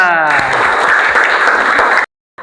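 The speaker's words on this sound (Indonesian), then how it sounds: "beri tepuk tangan untuk kelompok 2" Loud, close applause from a class of students for a presenting group in a classroom lesson, a dense burst of clapping that runs for about two seconds and then cuts off abruptly.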